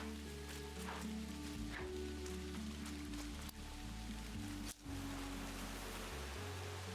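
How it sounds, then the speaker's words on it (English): Rain falling in the video game Hello Kitty Island Adventure, a quiet, steady patter of rain over a soft, shifting musical bed, continuous with no voices. "Nothing but rain."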